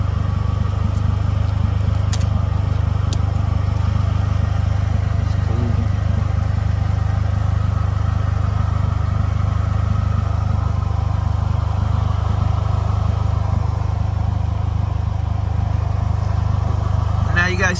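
A motorcycle engine idles steadily and loud throughout, a constant low rumble under occasional clatter, with a few short clicks near the start.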